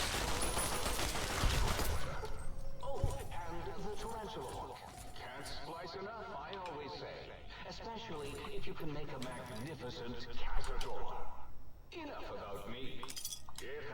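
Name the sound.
gunfire from video game Fallout Tale of Two Wastelands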